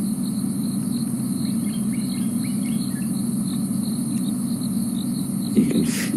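Cicadas call at night during a live safari broadcast, a steady dense insect drone with a few faint chirps, continuous and moderately loud throughout.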